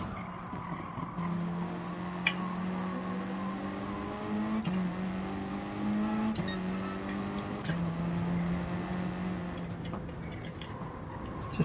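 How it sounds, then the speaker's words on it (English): A Porsche race car in a racing game on the Nürburgring Nordschleife drones past with a steady, buzzing engine note that shifts pitch a few times, mixed with tyre noise and the player car's constant hum. "Let this Porsche pass"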